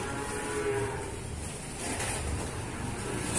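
Cattle, including young calves and feeder stock, lowing steadily while being unloaded from a truck, a continuous loud moo with a rough, droning tone, heard without any talk.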